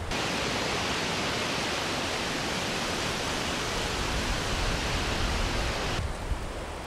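Wind through nature in a cinematic sound design sample: a steady, dense broadband rush like gusting air, constant and fairly loud, alone throughout.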